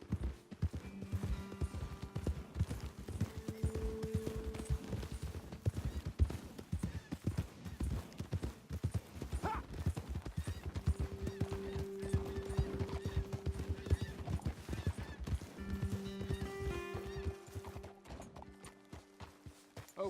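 Horse hooves clip-clopping at a riding pace across terrain in the Western video game Red Dead Redemption 2, a steady rhythmic beat of hoofbeats with faint tonal background and occasional soft voices.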